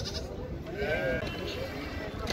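Sheep bleat at a livestock market in Uzynagash near Almaty, one wavering call rising over a murmur of crowd noise while someone talks nearby.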